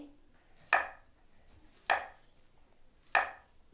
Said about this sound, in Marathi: आणि आता आम्ही छोटे छोटे चिप्स पाडणार